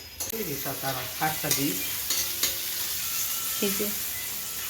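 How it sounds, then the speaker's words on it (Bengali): Leafy greens (saag) frying in a pan on a home stove, steady close sizzling with scraping stirs, and faint background sounds in a household kitchen. "মা ওখানে তরকারি হচ্ছে বলে এখানে শাক ভাজবে"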